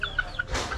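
Brood hens and broodcock clucking softly nearby, a few short clucks in under a second with a faint rustle behind them.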